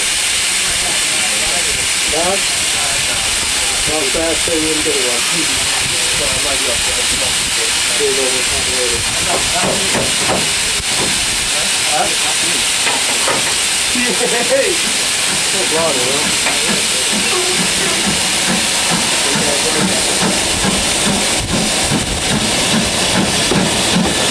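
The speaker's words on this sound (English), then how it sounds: "we see BR Standard Class 5 Mixed Traffic 460 number 73082 Camelot arriving at Horsted Keynes" BR Standard Class 5 Mixed Traffic 4-6-0 steam locomotive No. 73082 Camelot arriving at Horsted Keynes station on the Bluebell Railway, with a loud continuous steam hiss dominating and bird or whistle-like chirps and murmur faintly beneath.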